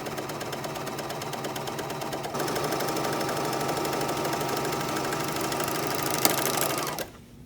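A serger sews a lettuce hem along stretched fabric, its steady, fast mechanical whir running loud and continuous throughout, with a slight shift in tone partway and a quick wind-down near the end.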